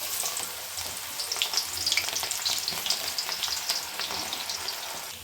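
Cabbage pakoda fries in hot oil with a steady, bright hiss and dense bubbling crackle, close and continuous throughout without any talking.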